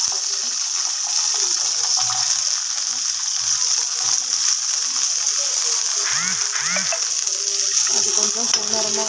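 Small cut onions frying in a little oil in a pan hiss steadily and crackle close by, with a faint voice and a few light utensil scrapes at moments over the sizzle.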